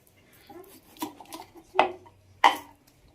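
A knife chops fresh chillies, tomatoes and onions on a board in a home kitchen: a few quiet, scattered knocks, with two sharper cuts near the end.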